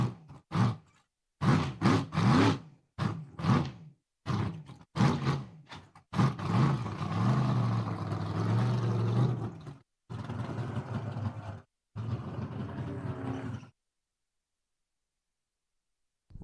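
A stick-shift Ford Mustang drag car at Empire Dragway revs in sharp repeated bursts, then holds loud sustained high-RPM pulls with brief breaks, close and alone.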